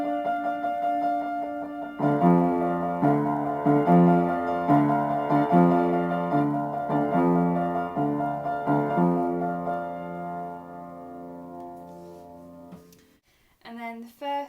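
Solo piano plays the intro of a song, steady repeated chords in an even rhythm, clear and close, fading out near the end before a brief voice.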